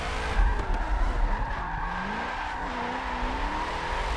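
A car drifts in the racing game Forza, its tires squealing continuously with wavering pitch over loud engine roar, without talk.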